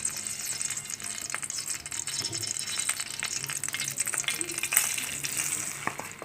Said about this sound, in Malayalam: 1 സ്പൂൺ നെയ്യ് എടുത്ത് ഇതിന് തരി വറുക്കണം